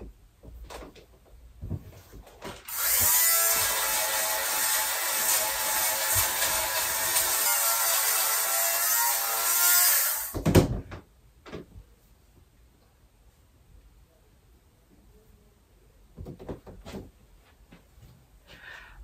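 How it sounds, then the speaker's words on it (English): Battery sweater shaver buzzing across a pilled knit sweater, a steady high electric whir lasting about eight seconds, followed by quiet handling rustles and small clicks. "I'm going to go ahead and sweater shave just to clean it up a little bit."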